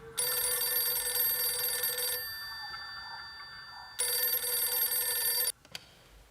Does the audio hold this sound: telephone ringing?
yes